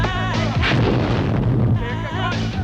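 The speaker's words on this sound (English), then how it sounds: "what's happening is the explosion's happening way too late" Explosion sound effect cut into an edited sequence, a dense, loud rumbling blast sustained for about two seconds with booming low end, layered over a harmonic tonal bed that swells back in at the end.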